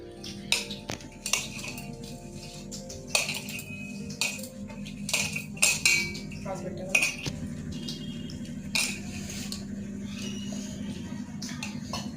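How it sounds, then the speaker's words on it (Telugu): Pakoda batter with onions and curry leaves being mixed in a bowl, giving repeated close clinks and scrapes in an irregular rhythm, with faint voices in the background. "ఇవన్నీ వేసి ఇప్పుడు కలుపుకోవాలి"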